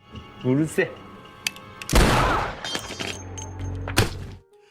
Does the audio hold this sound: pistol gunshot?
yes